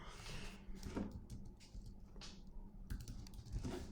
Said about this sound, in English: we're just gonna type this in